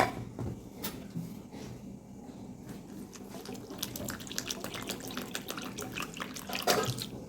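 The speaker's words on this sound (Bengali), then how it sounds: "এখন আমি এর মধ্যে পানি দিয়ে দিব।" Water is poured into a bowl of gram flour batter for cauliflower fritters, a soft continuous trickle and splashing close by, with faint clinks, no talk.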